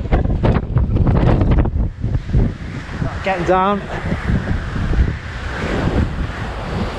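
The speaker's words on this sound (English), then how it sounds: "Some of these gusts must be over 80 miles an hour." Strong storm wind gusts buffeting the microphone on an exposed mountain during Storm Arwen, a loud continuous roar and rumble with a person speaking briefly over it.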